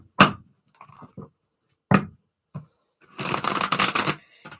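A deck of cards shuffled by hand during a tarot-style reading, two quick sharp riffles followed by a longer dense rippling shuffle, close and crisp with no talk.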